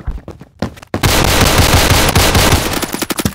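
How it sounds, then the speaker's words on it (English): A grenade goes off in the Phantom Forces first-person shooter game, a sudden loud burst after a couple of lighter pops, followed by a dense crackling, rumbling roar with scattered sharp cracks. "A grenade."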